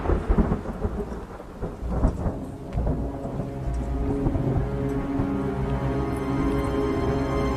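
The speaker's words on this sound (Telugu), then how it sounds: "బయట బాగా ఉరుముతుంది." Thunder rumbles through a heavy rainstorm, with a loud crack near the start and a steady wash of rain that keeps roaring in the background.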